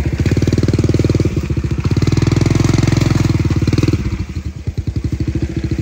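A motorcycle engine runs steadily at close range on a rough riverside trail by the Abulug River in Cagayan Valley, with a throbbing low pulse that briefly dips and rises as it idles and revs, no voices over it.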